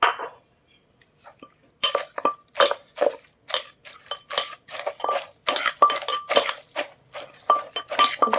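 A utensil scrapes and clinks against a bowl as a spicy Thai papaya-style salad is tossed with soft rice noodles, rapid rhythmic clattering bursts close by after a brief quiet start.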